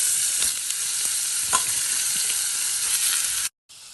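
Chicken frying in a pan with onions, ginger garlic paste, turmeric and mint for a chicken curry, a continuous close sizzle with occasional stirring clinks, then a brief cut to silence near the end.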